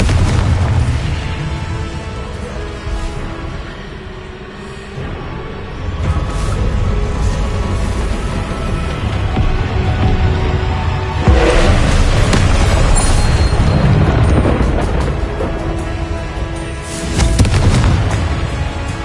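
Confringo blasting spells in the video game Hogwarts Legacy go off as a string of loud, booming explosions, each burst with a rumbling tail, repeating at irregular intervals over a dense battle din.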